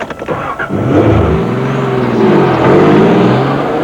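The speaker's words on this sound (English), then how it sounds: "Nissan 300ZX Turbo." A Nissan 300ZX Turbo sports car engine revs loud and close, rising through the gears with a sustained, climbing roar after a few sharp opening bursts.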